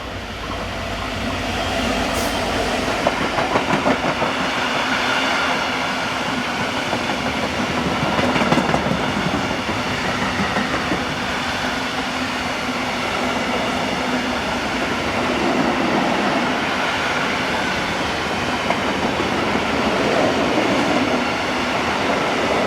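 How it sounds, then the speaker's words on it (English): A Class 66 diesel locomotive hauls a freight of empty lime hopper wagons from Duisburg to Flandersbach at dusk, a loud, continuous rumble of engine and rolling stock with rhythmic clickety-clack of wheels on rail joints, heard close and without speech. "Class 66 number 77041 heads south in the last of the light with GM 60388 from Duisburg to Flandersbach empty lime hoppers"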